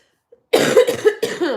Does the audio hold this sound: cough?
yes